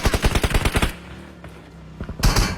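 Rapid bursts of video game gunfire crackle loudly in quick succession, stop for about a second of quieter background, then start again.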